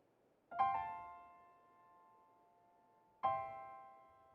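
Two soft, separate piano chords, each struck once and left to ring and fade, played slowly with a quiet gap between them.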